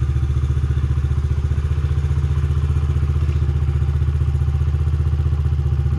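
Dirt bike engine idling right after a kick start, a steady rapid low thumping pulse with mechanical clatter, loud and close, with no voices.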